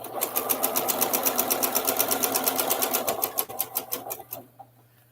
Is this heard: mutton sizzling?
no